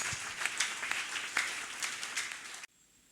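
Church congregation clapping for Jesus during a crossover prophecy service, a dense, steady wash of many hands ringing out close and full for over two seconds before cutting off abruptly into near-silence.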